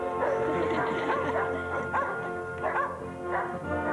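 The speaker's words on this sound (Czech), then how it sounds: "Už tu chybí jen ten pes, co si vrčením říká o večeři." A dog growls and yips for its dinner, a steady rough rumble with short yelping surges running through the whole stretch, close and fairly loud.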